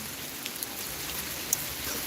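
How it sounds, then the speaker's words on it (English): Steady rain falling outdoors in Villingen, Germany, a continuous soft hiss with a few faint droplet ticks, no voices. "it's raining"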